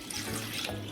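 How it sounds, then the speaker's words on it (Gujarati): Water runs steadily into a cooking pot for boiling drumsticks with carrots, a soft continuous splashing pour with no talking. "આપણે જેટલું જોઈએ એ પ્રમાણે પાણી બાફવા માટે લઈ લીધું છે"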